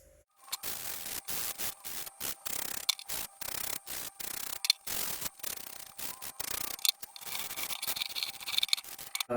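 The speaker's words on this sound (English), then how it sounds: "So we can get the sandpaper out and start cleaning it up" Hand sanding of a Brazilian rosewood veneer dashboard for a Triumph Spitfire, heard as rapid, close, scratchy back-and-forth strokes with brief gaps between passes, steady and alone without talk.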